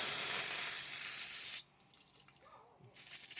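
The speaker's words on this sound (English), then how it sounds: "Use a little bit of brake cleaner." Brake cleaner is sprayed into a part of a Kubota B7800 tractor on a workbench: a loud, steady aerosol hiss that stops abruptly, followed by faint handling noises, then a second spray burst.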